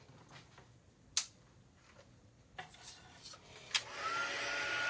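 A few light clicks and taps from a paper craft project, then a heat embossing tool switches on near the end and blows with a steady airy whir.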